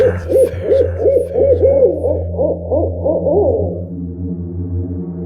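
An owl hoots in a rapid rhythmic series of soft, rising-falling calls over a low steady drone, fading out after a few seconds.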